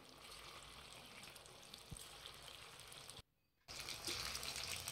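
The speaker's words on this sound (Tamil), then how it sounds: "சூடான எண்ணெயில் போட்டுடலாம்." Chicken pieces for restaurant-style dragon chicken drop into hot oil, giving a steady broadband sizzle and crackle that cuts out briefly near the end before returning louder.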